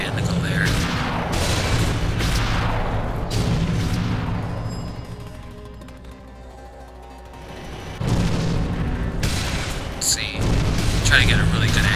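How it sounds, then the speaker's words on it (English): Deep booming blasts of video game cannon fire aimed at a boat sound several times, loud and heavy, with a quieter rumbling lull between the shots. "Just click on the cannon. It fires."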